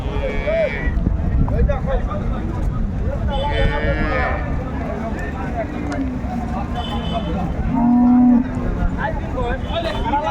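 A cow lets out a low moo near the end, heard amid a busy outdoor cattle market crowd in Dinajpur, Bangladesh, with people talking throughout.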